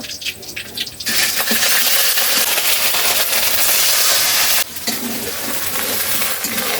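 Ginger-garlic paste lands in hot oil in a frying pan and bursts into a loud, dense hiss that holds for several seconds, then eases as it is stirred around, still sizzling steadily.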